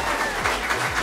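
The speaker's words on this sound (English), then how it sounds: "Nice round of applause." Crowd applause at an awards moment for a team-competition wrap-up event, steady broadband clapping throughout a brief burst without speech over it.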